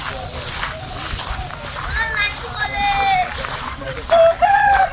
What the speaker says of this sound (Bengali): অভিনদা, অভিনদা, মোরগ ফোরগকে ধমক দিও না কিন্তু